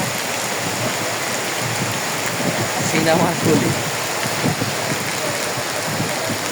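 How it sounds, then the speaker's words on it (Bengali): Steady rain falling beside a turbulent river, a dense even hiss with a low rushing undertone, continuous and fairly loud, while someone speaks briefly over it. "এখন বৃষ্টি হচ্ছে নদীর অবস্থা দেখতেছেন"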